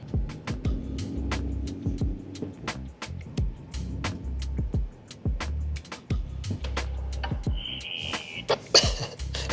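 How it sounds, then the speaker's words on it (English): A truck stuck in snow in sub-zero cold revs its engine in a low, uneven rumble that rises and falls, with sharp crunching clicks throughout. "It's like the truck's not making the right power yet because it's so cold"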